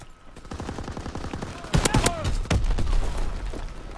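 Rapid bursts of gunfire from an FG-42 or M1941 rifle in Call of Duty WW2 multiplayer, a quick string of sharp cracks followed by several louder shots, with someone talking over them.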